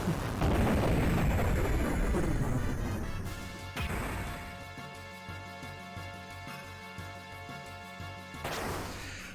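Special cannons fire in the Xenogears video game with loud, heavy booming crashes, a big blast at the start and another midway, each trailing into ringing tonal game sounds.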